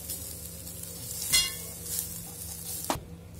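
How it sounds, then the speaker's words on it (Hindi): Coconut and spices dry-roast in a pan for methi leaf chutney, a faint soft rustle with a few scraping stirs of a spoon and one sharp clink near the end. "नारियल भी इसमें डाल लेंगे, साथ में इसको भी हल्का सा भून लेंगे।"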